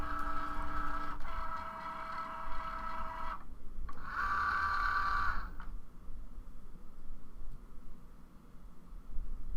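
A Cricut Joy cutting machine works through cardstock on a card mat, making a steady tonal motor whir that pauses briefly, resumes, then settles into a lower mechanical hum.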